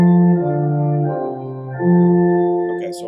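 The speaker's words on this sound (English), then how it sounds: "it's using an organ sound, so you got to make sure you've got pretty good speakers because that sound is a little fuzzy" A slightly fuzzy organ tone plays a short bass line with a melody above it, a few sustained notes shifting pitch, clear and alone with no talking.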